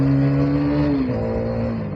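A KTM Duke motorcycle pulling hard in gear, its engine note rising and then dropping with a shift before climbing again, loud and close.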